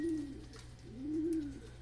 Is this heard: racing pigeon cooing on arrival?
yes